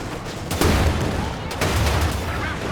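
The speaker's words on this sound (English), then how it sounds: "Drops a strafe on them." Air strafe gunfire in a Company of Heroes 2 match rattles in rapid bursts of shots, two sharp volleys standing out over a dense battle backdrop.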